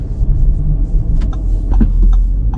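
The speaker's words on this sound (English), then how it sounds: "this car has a very nice engine note" A 2021 Audi SQ5 engine hums with a low, throbbing rumble from inside the car, steady and fairly loud with a few faint clicks and knocks over it.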